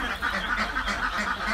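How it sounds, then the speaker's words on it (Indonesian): A crowd of egg-laying ducks on a duck farm quacking continuously, a dense overlapping chorus of nasal calls close by, with no pause in the noise. "beternak bebeknya ini kan jenis bebek petelur,"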